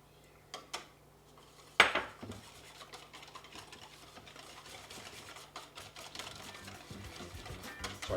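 Electric mixer whirring steadily as egg yolks are beaten into a chocolate mixture, preceded by a few clinks and a sharp knock against the bowl, the motor hum persisting close and moderately loud.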